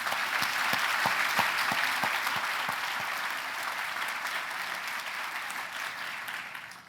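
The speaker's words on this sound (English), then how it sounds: "Let's give them another round of applause" Sustained audience applause at a groundbreaking ceremony for a cancer center, a dense wash of clapping that starts with a few sharp distinct claps and holds steady before easing slightly toward the end, with no talking.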